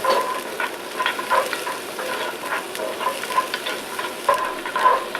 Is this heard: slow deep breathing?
no